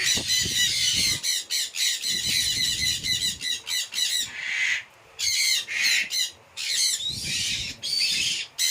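Rosella parrots squawk loudly and repeatedly in close, overlapping bursts with short pauses between, a harsh, busy chorus of calls from a collection of caged birds.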